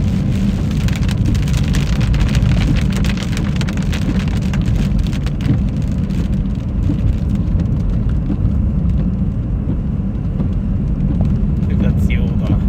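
Steady heavy rain pounds down during a live tornado storm chase near Beaver Dam, a dense continuous roar with faint rumbles beneath and voices talking over it.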